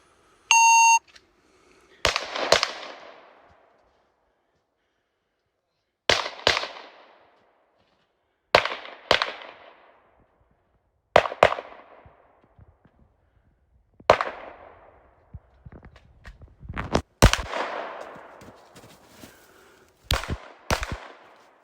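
Glock 17 pistol fired in quick double-tap pairs during a shooting drill, sharp loud cracks spaced a few seconds apart with short echoing decays, and a brief electronic timer beep at the start.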